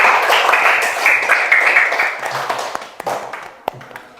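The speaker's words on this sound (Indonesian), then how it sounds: "Oke, kita kasih tepuk tangan dulu untuk kelompok yang pertama." Students in a classroom clap for the first group after its presentation, a fairly close burst of applause that tapers off over a few seconds, ending with scattered claps and faint voices.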